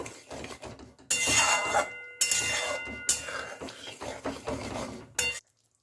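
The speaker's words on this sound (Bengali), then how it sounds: "ঘিটা মিলিয়ে দেব" A ladle stirs ghee into a raw papaya and potato curry in a metal pot, sounding as loud scraping bursts with a few clinks, broken by short pauses and ending in silence.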